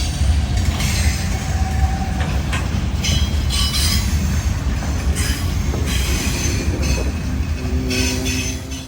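Freight train cars roll around a sharp curve on track with a 55 mph limit, giving a loud, steady rumble of wheels and couplings with high, sustained metallic wheel squeals rising and fading throughout.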